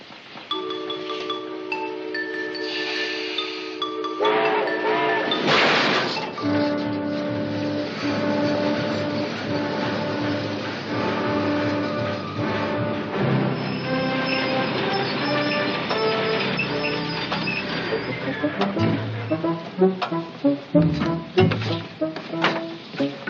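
A train rumbles along the rails with rhythmic clicking and occasional metallic squeals, steady and moderately loud throughout.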